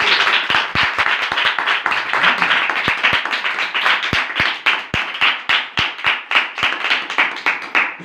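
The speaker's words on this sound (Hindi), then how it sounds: "यीशु के पाक कलाम के लिए एक बार जोरदार ताली" A church congregation claps loudly in unison, sharp hand claps in a quick, fairly regular rhythm close by, sustained throughout with no talking over them.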